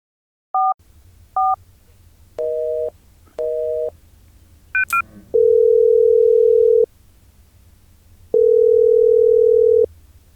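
A phone call being placed: a few short dialing beeps, then two long, loud, steady ringback tones separated by a pause, sounding clean and close.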